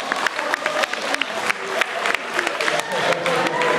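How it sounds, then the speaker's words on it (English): Audience members at a college orientation hypnotist show clap, with sharp individual claps standing out over a looser crowd applause and some voices underneath. "Give them a big round of applause"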